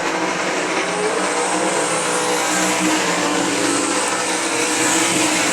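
Race cars at I-96 Speedway roar into a turn at a GLSS MichiganCAT heat, engines loud and sustained as the field runs single file with no pause in the noise.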